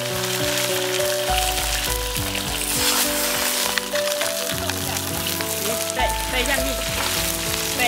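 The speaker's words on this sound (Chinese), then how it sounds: "油温热了，把这鱼下去。" Fish frying in hot oil, a loud steady crackling sizzle that carries under background music and some talking.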